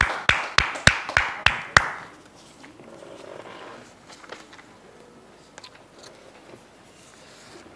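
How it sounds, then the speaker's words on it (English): A studio audience claps for a game show contestant in a short burst of about seven loud, sharp claps, then the room settles into quiet murmuring and faint scattered taps. "Give her a round of applause."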